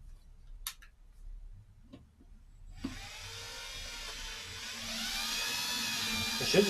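A thread tap works through a bolt hole during a KLDE V6 engine swap into a Mazda Protege5 wagon, a steady scraping, grinding hiss rising after a few faint ticks and holding close and continuous to the end.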